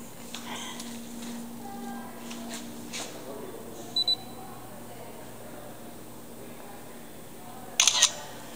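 A phone camera snaps a picture of a bidet in a bathroom, with a brief double shutter click partway through and a louder click near the end, over quiet room noise.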